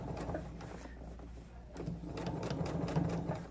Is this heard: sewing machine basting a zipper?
yes